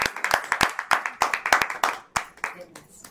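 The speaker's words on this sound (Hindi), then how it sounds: "जोरदार तालियां आदरणीय के लिए।" Audience applause at a Navratri book launch event, a close, sharp run of individual hand claps in a quick irregular rhythm that thins out toward the end.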